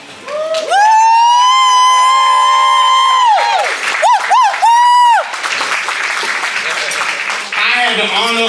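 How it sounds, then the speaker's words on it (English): A crowd at an award event in a Miami Beach restaurant cheers, starting with loud, high, siren-like whoops and whistles, then moving into clapping and crowd noise. "Round of applause before she even get up here."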